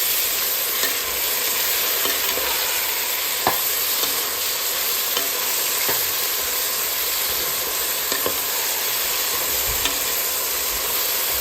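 Mutton bones with ginger, garlic, chili and cumin sizzle and fry steadily in a pan, a continuous close hiss with occasional stirring clicks and no talk.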